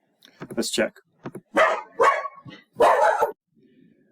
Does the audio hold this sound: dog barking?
yes